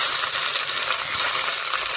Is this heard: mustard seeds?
yes